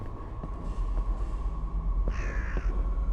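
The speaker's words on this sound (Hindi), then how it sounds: "कौवा है, ये उड़ जाएगा जैसे जाऊंगा।" Crow cawing in a horror video game, two clear caws near the end with a harsh harmonic rasp, heard over a steady low ambient drone and faint clicks.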